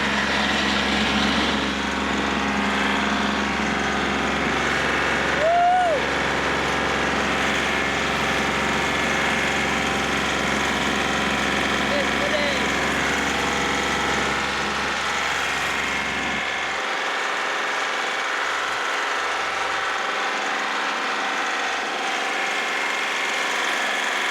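A backhoe engine runs steadily and loudly throughout, heard up close from the bucket seat during trench work. It holds an unbroken drone and shifts slightly lower and rougher in the final stretch.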